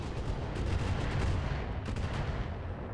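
In the Roguetech mech combat video game, missiles strike a target in a rapid barrage of impacts and gunfire-like bursts, dense and moderately loud with no talk.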